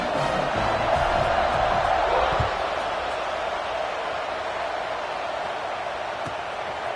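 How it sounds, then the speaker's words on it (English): Stadium crowd at a college football game between Alabama and Florida State, a broad steady roar of cheering and noise filling the venue for the full stretch, slightly louder early on. "this crowd is feeling themselves after that last drive"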